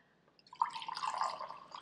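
Pressed juice poured into transparent plastic cups, a soft liquid trickle starting after a brief quiet moment and running steadily, close and fairly faint.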